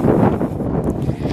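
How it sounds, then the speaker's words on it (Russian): Wind outdoors in southern Spain, a short blustery rumble buffeting the microphone, loud and close with gusty swells and nothing else audible. "здесь уже ветер"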